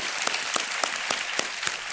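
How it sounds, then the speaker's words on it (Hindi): Studio audience applause on the quiz show KBC welcoming a contestant, a dense, even roar of clapping with a few regularly spaced louder claps standing out, loud and close, no voices over it. "एक बार फिर तालियों के साथ हम आपका स्वागत करते हैं।"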